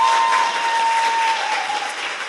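A studio audience breaks into a short, loud burst of clapping that holds steady before easing slightly, accompanied by a faint thin tone.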